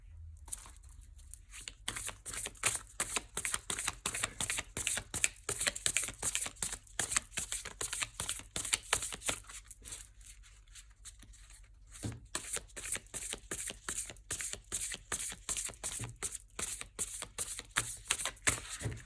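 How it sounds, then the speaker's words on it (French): Slippery tarot cards shuffled by hand in rapid, steady riffling bursts of crisp papery flicks, close and continuous with brief pauses. "Ces cartes sont très glissantes. J'essaie de faire attention."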